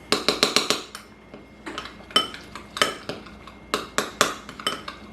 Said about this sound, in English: we're going to mix this mixture up. Basically just making a seasoned garlic butter here